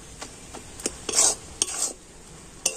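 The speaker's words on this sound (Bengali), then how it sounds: "তো এইভাবে নাড়তে নাড়তে তার চিনিটা কিন্তু গলে যাবে" A spatula stirs a thickening filling of ripe mango, milk and sugar for patishapta in a pan, making soft scrapes and light clinks over a faint low sizzle, close up with no talk.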